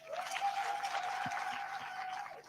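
A gathering applauds thirteen group ranches for becoming community land; a crowd's clapping blends into a steady wash, moderately loud and continuous for a couple of seconds before easing off.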